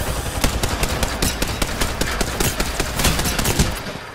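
Rapid video-game gunfire crackles in dense, fast bursts of shots, loud and close, running almost continuously without a break.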